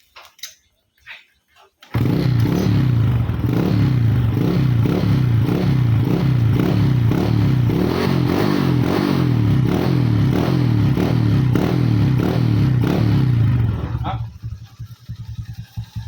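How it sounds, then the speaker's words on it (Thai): A 125cc motorcycle with an enlarged bore, a single slit exhaust pipe and the stock carburetor starts up after a short pause and idles loud and close with a steady rapid pulsing throb for about twelve seconds, then cuts off. "มีท่อผ่าใบเดียวคาบูเดิม ฟังเสียงเลย"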